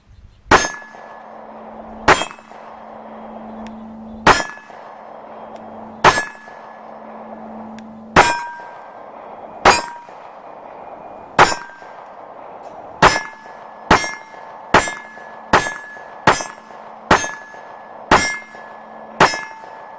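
A Walther PPQ pistol fired at an outdoor range, each loud sharp report followed by a ringing metallic clang from a steel target, first spaced about two seconds apart, then quicker in a steady string.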